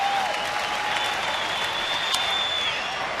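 Baseball stadium crowd cheering and clapping steadily for a pitcher seeking a third strike with two out and runners on second and third, a broad continuous roar with a few whistles rising above it.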